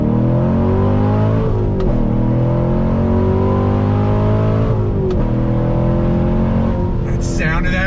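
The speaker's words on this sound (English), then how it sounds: "That sound of that V8, oh my, I love it." A 2016 Chevrolet Corvette C7 Stingray V8 accelerates hard under throttle, its loud, close engine note climbing steadily in pitch with a brief dip at a gear change before rising again.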